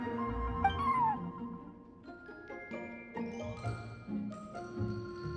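Cat meowing in the Genshin Impact event game, one close drawn-out meow over light background music, followed by softer game tones.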